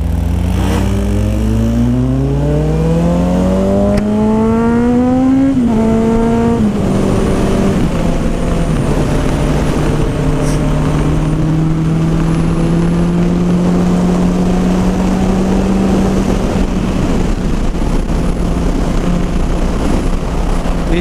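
A Honda CB650R motorcycle at night revs hard, its loud engine pitch climbing through several rising sweeps, then settling into a sustained high drone, close and continuous.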